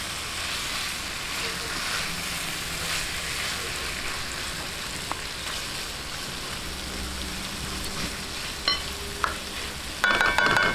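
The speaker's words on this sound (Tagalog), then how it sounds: "Atin lang pong gisang-gisa." Pork sautés in a pan with a steady, dense sizzle like rain throughout, and a few clinks of a utensil near the end.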